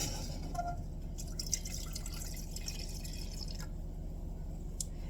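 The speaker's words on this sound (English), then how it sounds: "I'm going to go ahead and pour that in my pot here." A steady stream of liquid pours continuously into a pot, with occasional splashes and drips against a constant rushing wash.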